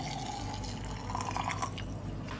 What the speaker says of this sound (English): you're going to add in 2 cups of very hot water.